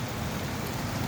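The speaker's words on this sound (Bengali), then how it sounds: "আজকে আবার আল্লাহর রহমতের বৃষ্টি" Steady rain falls in Sylhet during hot weather, a dense continuous hiss of drops on surfaces that holds at an even level throughout the short stretch, with no voices.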